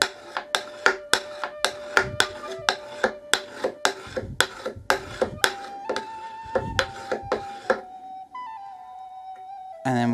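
A hardened steel burnisher strokes back and forth along the edge of a steel card scraper, turning the burr in a run of about fifteen quick, evenly spaced ringing scrapes, close and clear, then a few fainter pitched rings as it stops.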